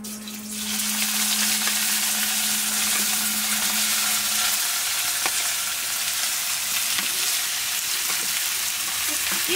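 Buffalo intestine frying in a hot wok over a wood fire makes a loud, continuous sizzle that swells up quickly and holds steady, with occasional scraping and stirring knocks.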